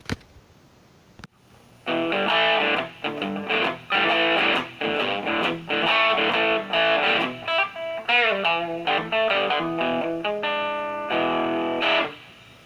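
Electric guitar, a Gibson 345S through a Morley Power Wah and a Fender Blues Deluxe amp on a Variac, distorted: a run of strummed chords and short riffs with gritty, saturated tone and brief pauses between phrases.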